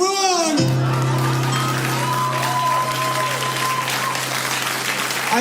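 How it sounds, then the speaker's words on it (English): A comedy show audience claps and cheers in a sustained burst, with scattered whoops over a steady low hum, and a voice is heard briefly at the start. "I made you clap for something you didn't want to clap for."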